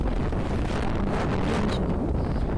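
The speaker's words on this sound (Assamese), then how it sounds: "বহুত বতাহ মাৰি আছে।" Strong outdoor wind buffets the microphone on the way to a temple, a loud, continuous rumbling roar with no break and no voices.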